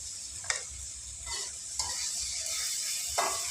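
Eggplant sizzles steadily in a hot frying pan, with a few sharp clinks of a utensil stirring against it.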